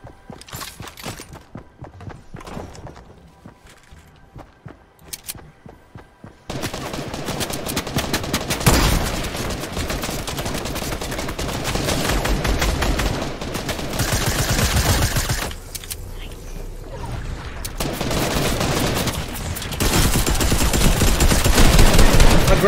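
Video game gunfire from a shotgun and sniper rifle, loud rapid bursts and repeated sharp shots densely packed across the scene, quieter sparse cracks early then a sustained barrage with no talking over it.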